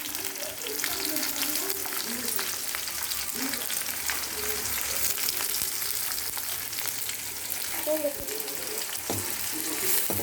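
Green chillies, peanuts and onions sizzle steadily in hot oil, a continuous loud frying hiss with occasional stirring scrapes, close up and uninterrupted.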